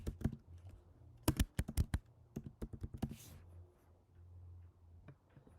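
Quick bursts of computer keyboard typing while entering names into a Photoshop lineup poster design, sharp close clicks in uneven clusters with brief pauses, quiet room hum underneath and no talking.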